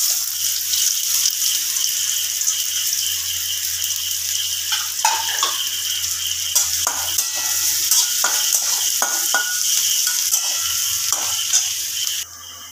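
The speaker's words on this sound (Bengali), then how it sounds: "এই যে তেলটা আছে, আমি এই তেলের মধ্যেই কিন্তু রান্নাটা করব।" Chopped onion fries in oil in a pan with a steady close sizzle, while intermittent stirring scrapes and clatters against the pan.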